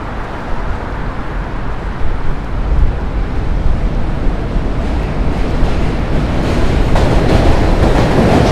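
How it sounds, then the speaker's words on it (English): A train rolls past on the railway during a walking commute from Brooklyn to Manhattan in New York City, a steady, broad rumble that holds close and fairly loud throughout and swells slightly toward the end, with no talk over it. "Train going the other way."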